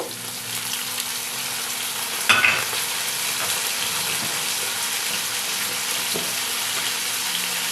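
Prawns are added to mixed vegetables frying in a pan, and a steady close sizzle runs throughout, with one brief clatter near the start and no voices.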